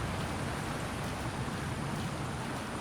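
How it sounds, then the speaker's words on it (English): A waterfall in the video game The Isle pours with a steady, loud, broadband rushing of water, unbroken and even throughout with no voices. "Well, this just leads into another river. And it's a waterfall. Pretty loud, too."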